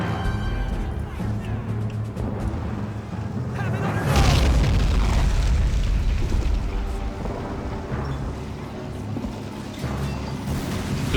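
A deep, heavy grenade blast from the Men of War: Assault Squad war game rolls out as a long, loud rumble midway through, set within steady battle noise and game sound.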